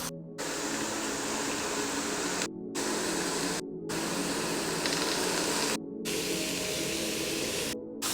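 Cabbage tossed into onions already sautéed in oil sizzles with a loud, steady hiss, broken by several brief near-silent gaps.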